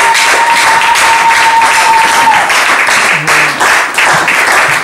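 Loud congregation applause during a church service, a steady dense clatter of many hands continuing for about five seconds, with a faint sustained tone early and a brief low voice-like murmur midway.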